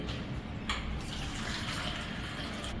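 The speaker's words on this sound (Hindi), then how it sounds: "1 कप ही मैं इसमें पानी ऐड कर देती हूँ" A cup of water is poured into a pan of sugar on a low flame for sugar syrup, producing a continuous splashing, gurgling rush throughout.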